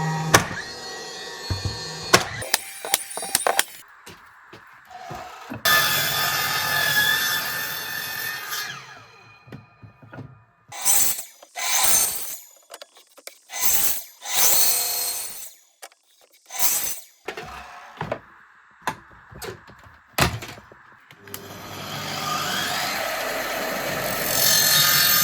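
Wooden pieces for a kitchen-style oven in a tobacco barn are cut, with loud, close rasping saw strokes in long bursts separated by short knocks and pauses, and no talking.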